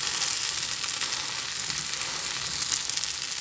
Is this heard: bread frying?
yes